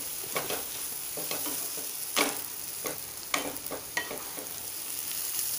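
Spices stirred in a frying pan for paneer bhurji, a continuous hiss of sizzling broken by irregular spatula scrapes and clinks against the pan, near and moderately loud, with no voices.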